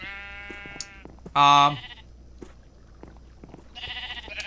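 Sheep bleating in a Minecraft-style fair game, a sustained harmonic bleat early, a loud bleat in the middle and another near the end, with faint clicks and a brief spoken word in between.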